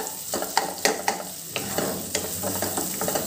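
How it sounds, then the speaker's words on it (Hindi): Finely chopped medium onion frying in a pan over a high flame, a continuous hiss broken by sharp clicks and scrapes from a spoon stirring, close and fairly loud with no talking. "अब मैं इसमें ऐड करूंगी बारीक कटी हुई प्याज"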